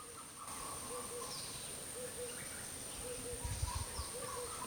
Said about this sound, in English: Do you hear the birds around?